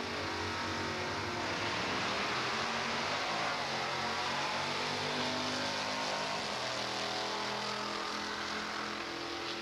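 1970 Chevelle and a Malibu drag race cars at the start line, a loud dense continuous engine roar that holds steady throughout without a break.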